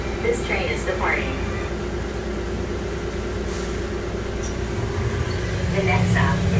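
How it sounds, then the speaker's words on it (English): The Atlanta airport Plane Train pulls away from a station with a steady low rumble and hum that builds slightly toward the end, with faint voices and brief announcement tones over it. "This train is departing."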